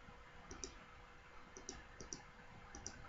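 Right-clicks on a computer mouse during PCB design work, a handful of crisp, close, quiet clicks spaced irregularly over a faint background hiss.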